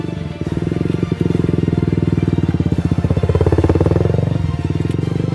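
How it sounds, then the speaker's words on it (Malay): A small motorcycle runs close by on a dark mountain road, its loud, steady engine pulsing with a rapid buzzing rhythm that swells as it passes, with no talk over it. "Ada motor. Ke tepi. Motor pun tak ada lampu."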